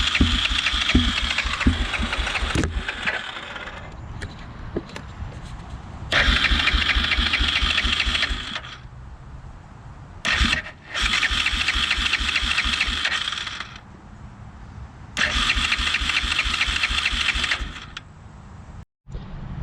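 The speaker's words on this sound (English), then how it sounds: "She's cranking like she's low on compression." A Yamaha Grizzly 350 4x4 ATV with apparently low compression cranks over repeatedly, three long whirring starter bursts with pauses between them, the engine struggling and not catching, close and loud with no talking.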